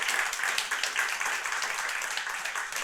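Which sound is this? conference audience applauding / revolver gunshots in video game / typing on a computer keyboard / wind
conference audience applauding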